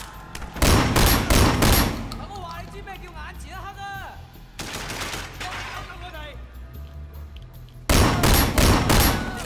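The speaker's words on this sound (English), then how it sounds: "I think I just shot him" Bursts of rapid gunfire in a video game come in loud clustered volleys at the start, midway and near the end, with someone talking between the shots.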